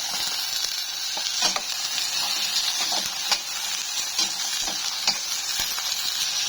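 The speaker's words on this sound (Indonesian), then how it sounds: "Wortelnya juga aku tumis." Carrots sauté in a pot of hot oil on an LPG stove, giving a steady loud sizzle and hiss with occasional stirring scrapes and pops, close up and without talk.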